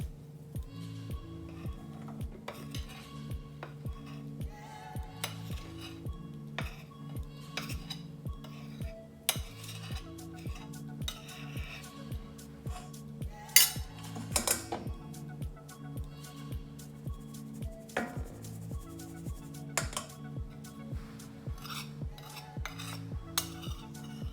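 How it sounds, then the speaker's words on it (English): Flour is sifted for a cake baked without an oven, with a steady, rhythmic metallic tapping and clinking from the sieve that continues for the whole stretch, fairly close and without talk. "let's start sieving our flour"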